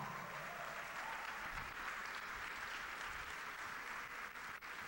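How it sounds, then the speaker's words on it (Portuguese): A church congregation applauds people just baptized at the baptistery, a dense, even wash of clapping heard from a distance and fairly faint, sustained for several seconds. "um aplauso para essa galera que hoje foi batizada"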